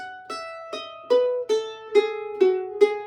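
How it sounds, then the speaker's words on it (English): A mandolin cross-picks a descending run of eight bright, ringing notes using open strings, evenly spaced and alone, each one plucked crisply and left to ring briefly. "this is a really cool descending line, kind of like a scale, but a weird one"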